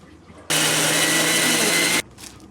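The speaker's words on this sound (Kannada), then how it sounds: "ಸೊ ಈ ಮಸಾಲಾನ ನುಣ್ಣಗೆ ಇವಾಗ ರುಬ್ಕೊಳ್ಳೋಣ ಬನ್ನಿ" A mixer grinder whirs loudly and steadily for about a second and a half, grinding masala for a Hassan-style chicken sambar, with quieter kitchen sounds before and after.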